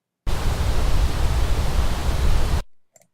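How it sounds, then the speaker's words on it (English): Generated Brownian noise, a soft static-like background hiss, starts abruptly, holds steady for about two and a half seconds, then cuts off, leaving a few faint clicks. "Noise is basically like a static background style sound effect."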